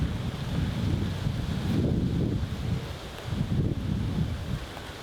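Wind buffets the microphone steadily on an outdoor disc golf course during a pro tournament round in Melbourne, a low rumbling roar that swells in gusts, with no talk.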